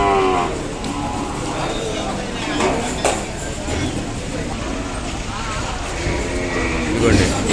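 Ongole cattle at a busy cattle market in Kodada low and moo now and then, mixed into steady crowd chatter and market noise, with people talking nearby throughout.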